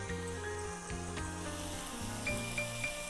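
Keema (minced meat) with pepper and salt sautéed in a pan, a steady sizzle with faint scraping and stirring strokes throughout, close and moderately loud, no talking.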